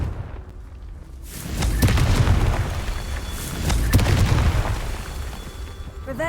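Spell explosions from the Confringo fire curse in a Hogwarts wizarding video game, booming and cracking in repeated heavy bursts over a dense game soundscape.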